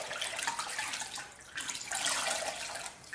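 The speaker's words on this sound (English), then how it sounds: "I'll wash the moisturisers off." Water running steadily from a bathroom tap while moisturiser is rinsed off the face, a close hissing splash that shifts slightly as hands move through the stream.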